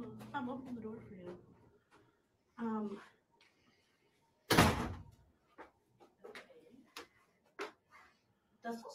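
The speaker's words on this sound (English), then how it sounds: "I'm opening the door for you." A hotel room door opens with a single loud clack in the middle of a stretch of lively talk, followed by scattered light knocks and footsteps as voices continue.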